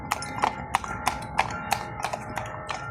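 Horse hooves clip-clop on pavement in Baguio City, a steady, fairly close series of sharp knocks at a walking pace, about three to four strikes per second, with faint background ambience.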